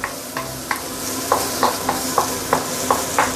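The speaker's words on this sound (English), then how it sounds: "we will saute this for a minute or two" Rice and boneless Iberico pork ribs sauté in pork fat with a steady close sizzle, punctuated by about nine regular scraping strokes of a utensil stirring through the pan, no talking.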